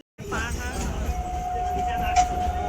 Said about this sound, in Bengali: আমাদের ট্রেনটা চলে এসছে